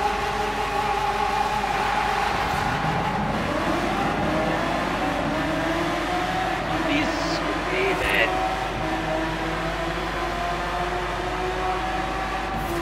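A Lamborghini Aventador SV engine in the racing game Forza Horizon 4 drones loudly and steadily, rising in pitch through a rev around the middle, while a voice talks over it.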